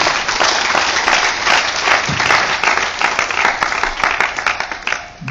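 A church congregation bursts into sustained applause and clapping, a dense, steady wash of many hands that holds loud throughout and dips briefly near the end.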